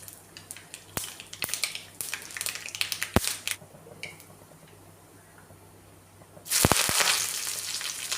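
Shallots and curry leaves dropped into hot tempering oil for a Kerala lunch curry, with scattered pops and crackles followed by a sudden loud, steady sizzle that continues to the end.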